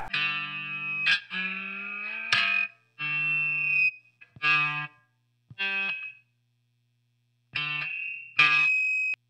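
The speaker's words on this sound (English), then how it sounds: "I'll turn on the reverb pedal and we'll put on the pad." Electric guitar notes and chords through a reverb pedal with a pad ring out in separate bursts, each washed in reverb and a shimmering effect, with brief silences between phrases.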